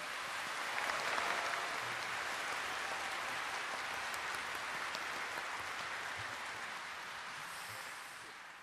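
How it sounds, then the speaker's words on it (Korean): Large crowd applauding at the 80th Korean Liberation Day ceremony as national representatives and descendants of independence patriots enter, a dense hissing roar of clapping sustained throughout and slowly fading, with no speech. "큰 박수를 부탁드리겠습니다."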